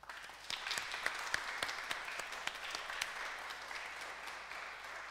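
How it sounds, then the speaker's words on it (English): A church congregation applauding in a parish setting, a sustained patter of many hands with sharp individual claps standing out, fairly distant and soft, no talking over it. "let's give them both a round of applause"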